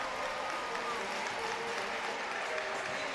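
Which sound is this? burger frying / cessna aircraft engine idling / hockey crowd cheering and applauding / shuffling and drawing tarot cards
hockey crowd cheering and applauding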